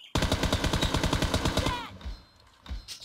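Rapid automatic gunfire from a weapon in PUBG Mobile's Team Deathmatch mode, a fast regular burst of loud shots lasting nearly two seconds, then fading into quieter game ambience with a faint thump near the end.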